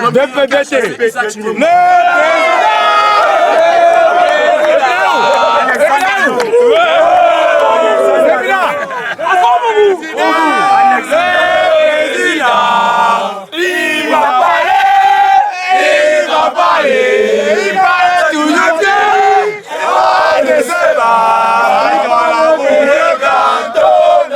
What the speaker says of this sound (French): quand on chante comme ça pour un président